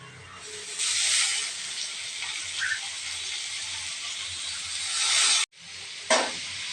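Chopped capsicum, beans and carrot hit a hot pan with onion and chilli, producing a strong, close hiss that swells, cuts off abruptly, then flares again briefly.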